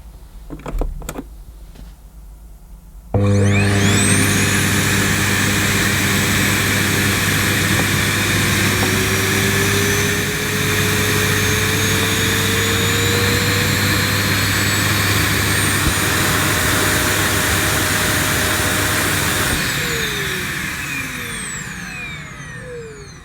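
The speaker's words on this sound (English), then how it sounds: "you're ready to plug the cleaner in. And switch on using the on-off switch." A Sebo Airbelt K1 vacuum cleaner switches on with a sudden loud start, then holds a steady, high-pitched whining roar for about sixteen seconds before winding down gradually, with no one talking.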